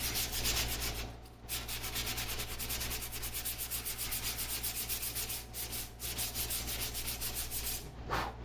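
Hand sanding takes old paint off a vintage child's wooden rocking chair in quick, regular back-and-forth rasping strokes, close and clear, with a couple of brief pauses.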